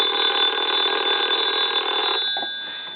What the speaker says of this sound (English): we're going to go ahead and ring the phone,